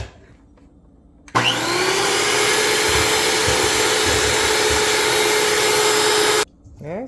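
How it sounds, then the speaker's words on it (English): Electric mixer whirring steadily as it blends oatmeal raisin cookie dough in a home kitchen, switching on abruptly, running loud and continuous for about five seconds with a steady whine, then cutting off. "So we scrape it down and we continue to mix."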